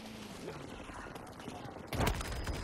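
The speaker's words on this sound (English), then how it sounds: "I'm shooting right where he is" Gunfire from an SFAR rifle in the shooter Battlefield 2042, a burst of rapid shots breaking out loudly after a quieter stretch of game noise.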